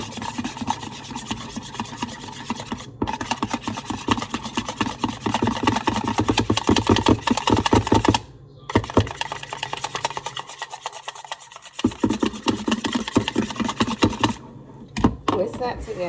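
Batter ingredients, including cracked eggs, are whisked together in a bowl for a homemade chicken sandwich and nugget recipe. The scraping strokes are rapid, loud and close, continuing in bursts with a few short pauses.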